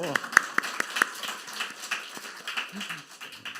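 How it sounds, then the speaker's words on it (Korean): A church congregation at a special worship gathering gives a brief round of clapping, sharp claps crowded together at first and then thinning out while voices keep talking over it. "박수"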